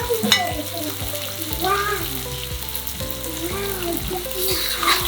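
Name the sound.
fried shrimp added to tomato curry, sizzling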